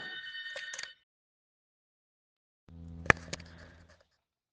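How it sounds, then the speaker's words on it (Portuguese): A telephone rings in two short bursts separated by silence, first a high trilling ring, then a fuller ringing tone with a sharp bell-like strike, close and clear with no talking. "Acordei com o toque do meu telefone."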